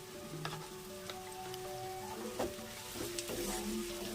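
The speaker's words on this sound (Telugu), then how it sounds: "మీడియం ఫ్లేమ్లో పెట్టుకొని మనం దీన్ని మగ్గించుకోవాలి" Anapa guggillu (field beans) simmering in a pan over a medium flame give a soft, continuous sizzle, with faint stirring scrapes and pops scattered through it.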